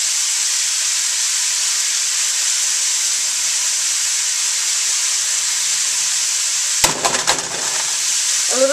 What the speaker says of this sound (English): And we're letting it fry up.